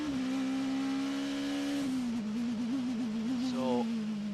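Race cars at the Daytona Rolex 24, including a Mazda, drone past with a steady high engine note that drops and wavers as they brake into turns, heard from a distance at low volume.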